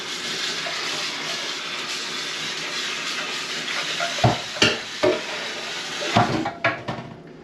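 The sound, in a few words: stirring roasted vegetables with marinara and spinach in a pan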